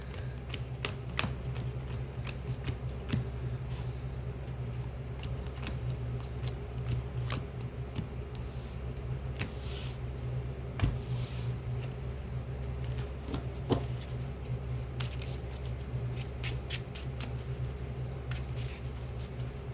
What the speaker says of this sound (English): I'm gonna shuffle up our deck, power shuffle it